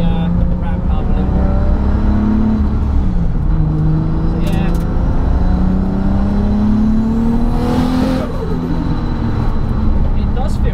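Toyota MKIV Supra with a 1251bhp engine and 6-speed gearbox revving loudly, a steady droning engine note that rises and swells, close and continuous, with some voice tagged underneath.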